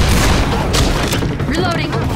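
Dense, booming gunfire in the shooter game Left 4 Dead 2, continuous heavy shots and thuds packed close together with overlapping voices and chaotic combat noise throughout.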